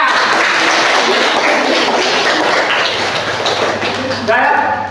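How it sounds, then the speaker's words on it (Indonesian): A class of grade 7A students is applauded during a school lesson. A loud, unbroken wash of clapping mixes with children's voices and lasts the whole stretch, with a brief lift near the end. "Tepuk tangan untuk kelas 7A."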